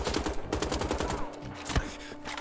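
Rapid automatic gunfire from enemies in the shooter game Wolfenstein: The Old Blood rattles in quick bursts at the player, a dense run of shots followed by a few scattered single cracks.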